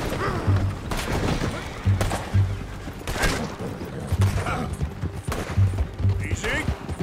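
Repeated gunshots crack and thump through a Red Dead Redemption 2 firefight, several loud reports over rumbling noise, with people talking in between.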